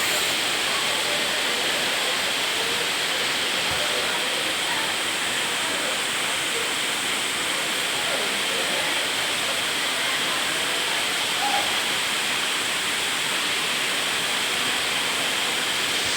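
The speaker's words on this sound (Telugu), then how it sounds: "water falls" Loud, constant roar of rushing water from nearby Sarugudu waterfall in hilly country, a dense steady wash of noise with no pauses.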